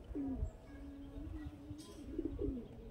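A domestic pigeon coos softly nearby, a few throaty rolling calls spread across a few seconds over faint background rumble.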